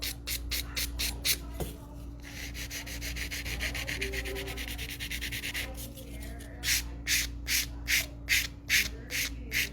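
A nail file rasps along the side wall of an acrylic almond-shaped nail in quick, regular strokes. The strokes are close and moderately loud, with a steadier stretch of rubbing in the middle.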